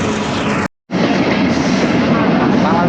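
A train rolls on rails near Abdulpur and Natore in Bangladesh, a loud, steady rumble and clatter that cuts out for a brief moment, then carries on.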